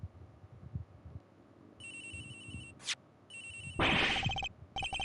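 A mobile phone ringing in the Ace Attorney Investigations video game, a repeating electronic ringtone in several bursts with short gaps, over quiet background music, with no talking.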